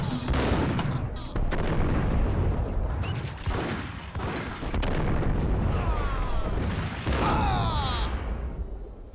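Shotgun blasts and heavy gunfire crash repeatedly in the Max Payne video game, loud and dense, with booming shots layered over mechanical clatter and brief pauses between volleys.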